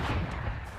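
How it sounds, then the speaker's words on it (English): Gunfire from a wall bang in the video game Valorant during a playoff match: a short burst of booming, muffled shots heard briefly over game noise. "a wall bang from Bandit on that off"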